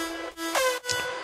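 A second synth lead, widened with a stereo enhancer and phase offset, plays a short phrase of buzzy sustained notes with a rising glide, heard alone at moderate level.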